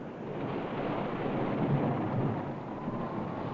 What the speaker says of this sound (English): But there was no denying fierce storms.